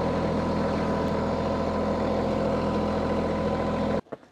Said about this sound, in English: the tractor is running and I am putting hours on it right now as it sits here